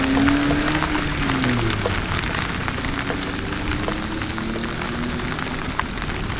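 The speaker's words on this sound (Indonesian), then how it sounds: "Wah, gila jadi gede gini hujannya." Heavy rain pours steadily during a motorcycle ride, a dense continuous hiss of drops on surfaces under a low engine hum, with a brief rise in pitch from the engine early on.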